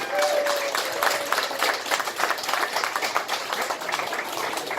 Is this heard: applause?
yes